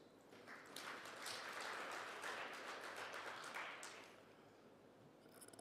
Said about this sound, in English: I want us to really give ourselves a hand of applause